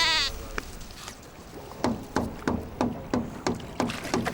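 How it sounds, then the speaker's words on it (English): Traditional fishermen bang on something at a distant lake to drive tilapia into nets: about eight regular, evenly spaced knocks ring out over faint outdoor background, after a sheep's bleat opens the scene. "They're the traditional fishermen banging that noise to scare all the tilapia into the nets."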